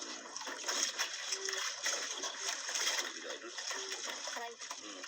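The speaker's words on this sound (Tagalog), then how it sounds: "Masyadong malakas ang agos." A strong river current splashes and gushes continuously nearby, with watery spatter and trickling throughout while a voice talks briefly over it.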